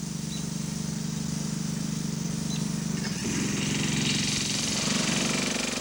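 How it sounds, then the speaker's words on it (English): A rototiller engine runs steadily while churning and softening heavy clay soil in a garden, a loud continuous mechanical drone with a slight shift in load partway through. "We found a great use for the rototiller. It makes clay softening easy, if noisy."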